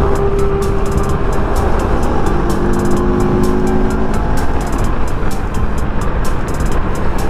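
Loud, dense road traffic heard from a moving motorcycle on a breakfast ride in Sto. Tomas: continuous engine and wind roar with vehicles rumbling close by, plus repeated short clicking ticks. No one speaks.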